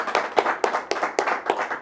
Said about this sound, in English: Gentlemen, give yourself a round of applause.